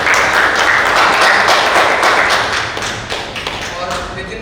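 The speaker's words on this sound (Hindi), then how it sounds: "एक बार जोरदार ताली टाइगर भाई के लिए भी हो जाए।" Crowd clapping at a box cricket league event in Raipur, a dense, loud burst of applause that gradually thins out toward the end.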